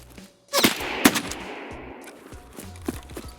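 Shotgun blasts in Escape From Tarkov on the Shoreline map, loaded with slugs: two sharp, loud shots close together with echoing tails, then fainter footsteps and distant thuds.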